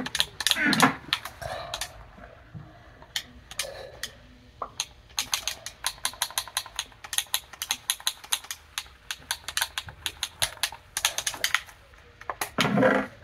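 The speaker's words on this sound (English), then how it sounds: "I'm so sorry if you hear a lot of control clicking." Rapid, uneven clicking of a computer keyboard's control key during a Blockwars game, close and fairly loud in bursts, with a voice speaking briefly at the start and end.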